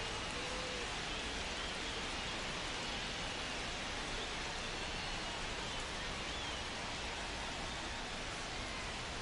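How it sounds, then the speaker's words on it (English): Steady rain falls over a ballpark in MLB The Show 25, a dense, unbroken hiss with no pauses, even and moderately loud throughout, with no one talking. "This rain is not letting up."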